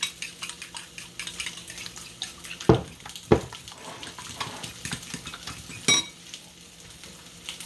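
Eggs beaten in a bowl for a simple breakfast, a run of quick clinking strokes from a utensil against the bowl, with a couple of sharper knocks and some kitchen background noise.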